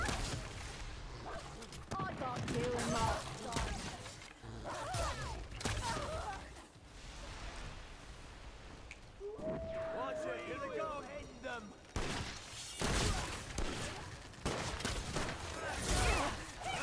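Shotgun blasts in the co-op video game Remnant II, a few sharp bursts of gunfire scattered among game noise and frequent excited talk from players, with loud impacts clustered mid-clip and near the end.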